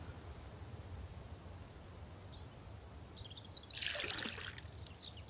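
Water pours from a bucket in the survival game Mist Survival, a brief splashing gush rising near the end over faint ambient hiss and occasional distant bird calls.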